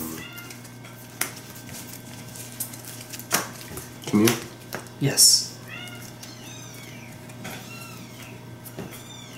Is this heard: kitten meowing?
yes